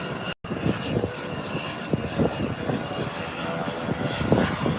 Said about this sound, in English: So get ready for these takeoff